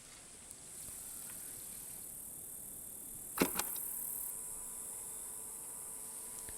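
Cicada in the video game SEASON: a steady high-pitched buzzing drone runs throughout at a moderate level, with a brief sharp clatter near the middle.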